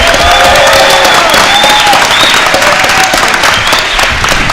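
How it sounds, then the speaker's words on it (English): A large audience at a startup business event gives a loud, full burst of applause mixed with a few cheers, sustained and dense throughout. "So we just give like a massive round of applause for Victor"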